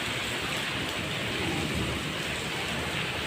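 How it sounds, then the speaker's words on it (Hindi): Dense, steady rain pouring down with a constant broadband hiss, loud and close, no voices. "और बारिश भी बहुत तेज़ हो रही है।"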